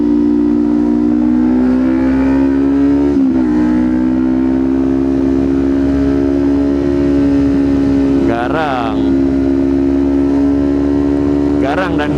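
Kawasaki Ninja 250 with an SC Project exhaust, a loud, steady engine drone holding a raised pitch throughout, with brief rising rev swells near the end.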